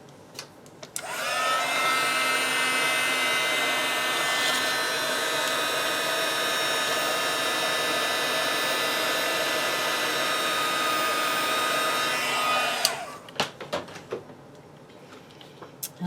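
A heat tool blows a steady, loud whooshing hum for about twelve seconds while setting embossing powder on chipboard, with small clicks and handling noises as it switches on and off.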